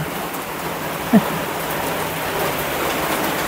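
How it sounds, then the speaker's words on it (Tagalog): Steady rain falling outside a bedroom balcony with a mountain view, a close, even patter and hiss that carries on throughout, with one brief soft knock partway through. "Umuulan sakto."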